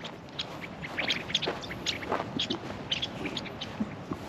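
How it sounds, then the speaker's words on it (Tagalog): Geese in the wild give repeated short honks and calls, moderately near, scattered irregularly over a steady outdoor background. "Tingnan nyo yung mga gansa."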